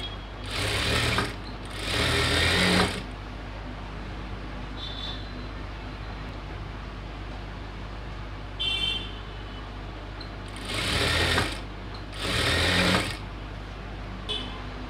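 Sewing machine stitching an umbrella chudidhar top, working in several short bursts of rapid whirring separated by pauses, with small clicks and faint beeps in the quiet gaps.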